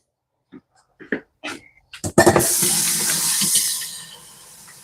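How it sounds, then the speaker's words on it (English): Water from a kitchen sink tap runs for hand washing: a few scattered knocks and clatters, then a sudden steady close rush of flowing water that continues to the end. "I'm going to wash my hands."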